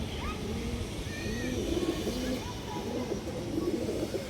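Many pigeons coo together in a loft housing female birds kept for sale, overlapping soft rolling calls rising and falling continuously over a low background hum, fairly close and moderately loud, with no talking.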